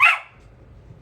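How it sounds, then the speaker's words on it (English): One sharp, close bark from a dog seeking attention, cut off quickly and followed by quiet room tone. "excuse my dog barking, he wants attention"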